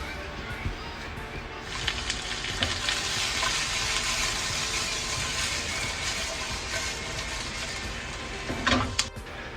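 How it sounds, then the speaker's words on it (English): Roughly chopped onions fry in a tablespoon or two of hot oil, giving a steady crackling sizzle with occasional stirring clatter, and a voice talks over the cooking. "Add about a tablespoon or two of oil. And we're going to add some onions, just roughly chop our onions."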